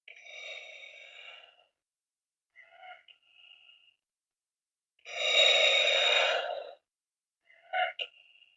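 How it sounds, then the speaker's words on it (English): Darth Vader helmet breathing effect with the apparatus heavily damaged: ragged, hissing mechanical breaths in separate bursts, one long loud exhale in the middle and short choppy gasps around it, close and isolated. "the breathing of his apparatus completely destroyed at the end of Empire Strikes Back"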